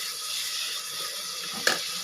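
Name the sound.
pouring water into chicken biryani pot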